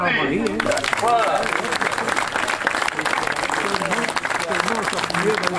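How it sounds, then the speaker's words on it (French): A crowd applauds the cousins at a 2012 village festival in Blehen, with steady, dense clapping that lasts throughout and voices mixed into it. "Alors, on les applaudit."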